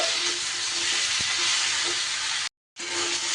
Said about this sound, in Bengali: এবার গ্যাসটা কমিয়ে দিয়ে আমি একটু নাড়াচাড়া করে নেব।